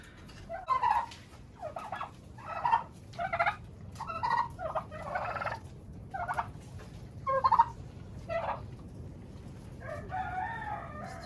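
Turkeys gobble in repeated loud bursts at close range, several calls in a row with short pauses between, in a farmyard pen.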